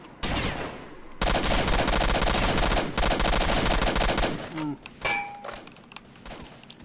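Bursts of automatic gunfire fill a S.T.A.L.K.E.R. Shadow of Chornobyl firefight, loud sustained volleys with brief gaps and a few thuds near the end, with a voice mixed in.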